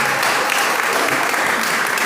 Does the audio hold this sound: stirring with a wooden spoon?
no